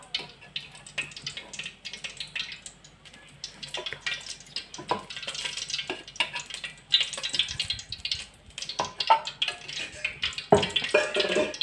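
Cooking oil heating in a kadhai for noodles gives off quiet, irregular sizzling ticks and crackles, close and fairly soft, with a louder spitting burst near the end.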